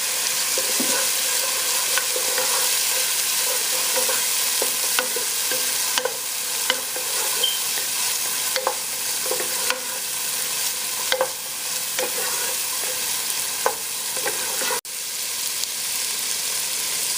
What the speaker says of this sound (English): we're just going to cook the onions until they get a little translucent